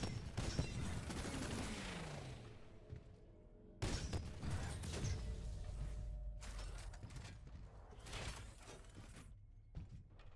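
Salvos of weapon fire during a 2v2 last-team-standing video game match. Loud bursts of rapid shots and blasts come in several waves, separated by short quieter gaps with mechanical whirs.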